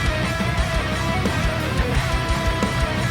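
Dense, loud metal song mix before mixbus processing, with distorted guitars and pounding drums forming a steady, full wall of sound throughout, without vocals or talking evident.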